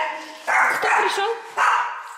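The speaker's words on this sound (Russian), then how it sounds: "что ты гавкаешь?" A dog at home barks two loud, close yaps about a second apart, each burst strong and ringing over a quiet room.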